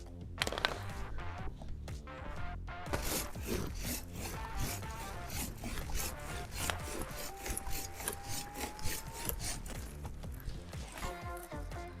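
Hand saw cutting through juniper shrub branches during spring pruning in a garden, making steady, close rasping strokes of wood being sawn, repeated in an uneven rhythm with no talking.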